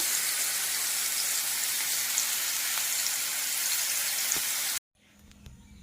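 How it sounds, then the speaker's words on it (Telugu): Paneer fries in a pan, giving a steady, dense sizzle at close range that cuts off abruptly near the end. "పన్నీర్ వే వేయించుతున్నాను అనమాట"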